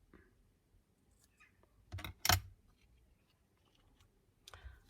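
Scissors cutting through card stock during card making, with a couple of short, crisp snips close by in a quiet room, separated by near silence, and a faint rustle at the end.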